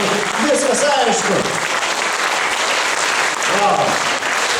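Audience applause at a traditional folk kapela band festival, a dense and loud continuous roar of clapping from a large crowd, with a person's voice heard briefly over it.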